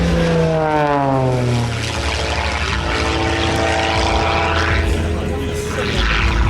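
A propeller stunt plane flying aerobatic manoeuvres at an air show in Margny-lès-Compiègne. The engine drones loudly and continuously, and its pitch sweeps and shifts as the aircraft changes course.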